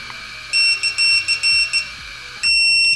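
A VIFLY X150 drone's failsafe beeper sounds after its radio link is cut, loud, shrill, close-up electronic beeps in a quick repeating pattern with short gaps, over a faint steady hum.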